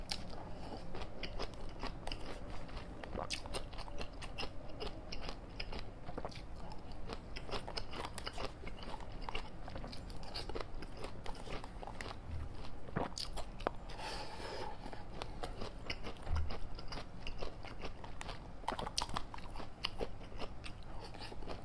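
Crunchy chewing and biting of a pomegranate shaker cup drink, close to the mouth, with steady crackling bites and scraping textures running throughout, no talking.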